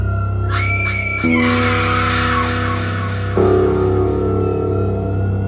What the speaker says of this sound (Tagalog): isang malakas na sigaw ang umalingaw-ngaw